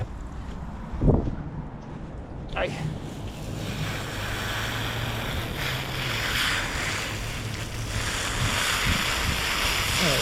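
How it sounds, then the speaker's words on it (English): Water from a hose or tap switched back on while painting a landscape, a steady broadband rush of running water filling the background after a brief click and a short spoken word. "Let's kick the water back on."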